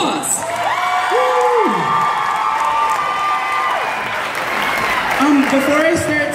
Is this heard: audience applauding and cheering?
yes